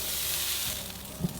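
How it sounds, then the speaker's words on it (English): A grouper fillet sizzles as it is drawn across a hot grill grate, giving a short, steady, close hiss that ends with a faint low bump. "We're literally gonna take this fish and drag it across the grill grate."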